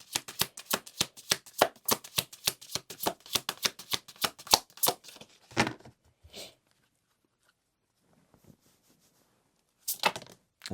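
Tarot cards are shuffled in a rapid run of crisp riffling snaps for about five seconds, close and clear, followed by a few scattered taps and a final short flurry.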